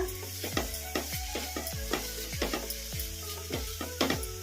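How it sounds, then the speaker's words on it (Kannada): Masala with tomato and cumin powder is stirred in a frying pan over a steady sizzle. A spatula scrapes the pan in quick, regular strokes, close and fairly loud, with no talking. "ಈಗ ಕಲಿಸ್ಕೊಂಡ್ಬಿಡೋಣ."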